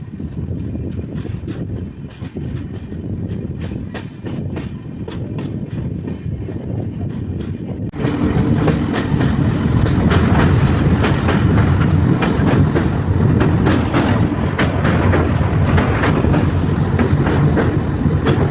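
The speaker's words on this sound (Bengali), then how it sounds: "গাইস, এই লাইন দিয়ে খুব বেশি স্পিডে ট্রেন যাবে না," The 15777 New Jalpaiguri–Alipurduar Tourist Express rolls along at a modest speed, a continuous rumbling with rhythmic wheel clicks heard from on board, growing noticeably louder and fuller about halfway through.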